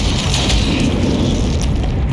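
Gunshot in the dark tactical game Othercide: a heavy booming blast with a long rumbling low-end tail that fills the whole stretch, loud and dense, with no talking over it.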